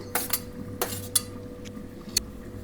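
Chopped onion goes into a pan for soya pulao with a few quick metallic taps and clinks of a utensil against cookware, close and fairly crisp.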